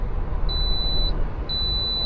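A fridge in an overheated car in 116-degree heat sounds two loud, high-pitched electronic beeps, each about half a second long, evenly spaced over a low rumbling background.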